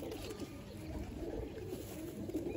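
Pigeons coo softly, with low repeated calls over a faint background hum.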